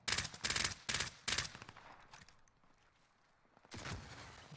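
Bursts of Call of Duty: Warzone gunfire, several rapid volleys in quick succession, then a pause and another burst, loud and close.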